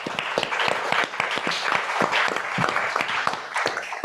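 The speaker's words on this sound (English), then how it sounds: "Can I get a round of applause?" An audience at a child protection event applauds, giving a dense, continuous burst of many hands clapping close by that holds steady for about four seconds, with no speech over it.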